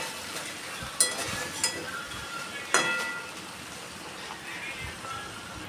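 Low sizzle of food frying in a pan after kasundi mustard sauce is added, quiet and steady with a few sharp clinks of a utensil against the pan.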